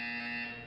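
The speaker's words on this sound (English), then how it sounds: "When you hear the buzzer, look down at the floor." A buzzer in the video game Portal 2 sounds as a single loud, steady electronic tone with a harsh, harmonically rich timbre, holding briefly and then tapering slightly, with no voices.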